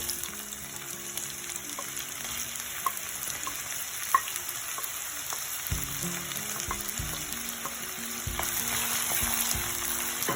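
Onion frying over a medium flame in a pan for a spicy pepper mutton roast, a steady close sizzle with occasional stirring clicks throughout, no talking.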